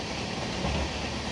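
A passenger train travels on the way to Mysore, its rumble a steady, fairly faint wash of rail and carriage noise with no voices.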